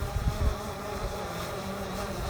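A Hubsan Zino drone descends over a lake, its rotors giving a continuous buzzing whine mixed with wind rumble and low buffeting, moderately close and steady throughout, with no talk.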